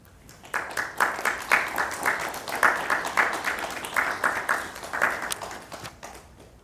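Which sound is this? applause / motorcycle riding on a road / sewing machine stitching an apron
applause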